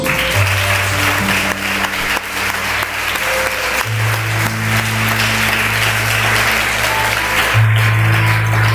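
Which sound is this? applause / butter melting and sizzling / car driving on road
applause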